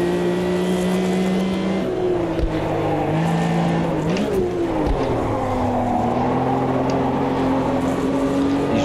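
A race car engine in the racing game AMS2 roars under hard acceleration, its loud tone climbing and shifting through gears for several seconds, close and continuous.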